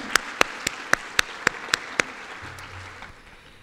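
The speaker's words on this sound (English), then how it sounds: "Everybody, let's give a big round of applause for all of us here." A single person claps about eight times at a steady pace in a meeting room during a racial equity discussion event, sharp close claps over faint room tone, with a low hum near the end.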